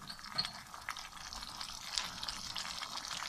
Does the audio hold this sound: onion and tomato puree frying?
yes